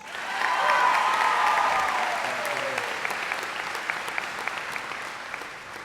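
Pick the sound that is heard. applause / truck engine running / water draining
applause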